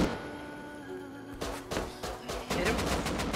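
Automatic rifle fire in a Rust raid fight, with a quiet start followed by bursts of rapid shots that grow into sustained, dense gunfire, loud and close.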